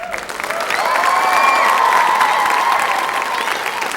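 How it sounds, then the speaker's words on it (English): An audience at a dance recital breaks into loud, sustained applause mixed with cheering and crowd voices, swelling quickly and holding strong across the whole stretch. "Like, a big applause to them."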